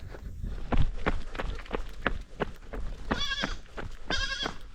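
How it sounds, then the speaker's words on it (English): Goat on a night trail run along New Zealand's Te Araroa, bleating twice in quick succession, close and fairly loud, over rapid running footsteps and heavy breathing. "It's okay, little goat."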